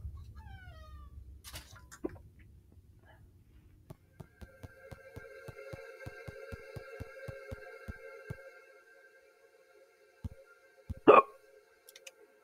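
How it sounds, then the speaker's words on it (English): Sharp, isolated hiccup-like bursts stand out near the end over a low hum and a steady ticking pulse, with faint chirpy tones earlier on. "I have hiccups."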